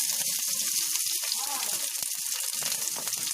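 Bay leaf, dried chilli, onion and capsicum fry in a pan with a dense, continuous sizzle and crackle. Occasional soft clicks of stirring sit under it, with no talking.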